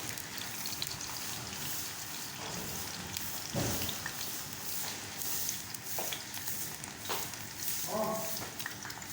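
Pieces of taro root coated in flour fry in hot oil, giving a steady, fairly loud crackling hiss that runs the whole time with a few brief sharper spatters.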